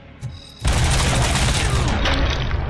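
A sudden, sustained barrage of heavy gunfire from the video game Robocop: Rogue City erupts after a short quiet lead-in and roars continuously at close range.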